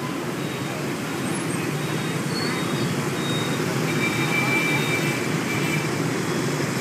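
Steady dense motorcycle traffic rumbles and hums without pause at a busy road intersection in Saigon, Vietnam, a constant close wash of engine noise.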